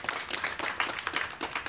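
Audience applause welcoming a chief guest at a ceremony, a steady wash of clapping from many hands, moderately loud and continuous, with no voices over it.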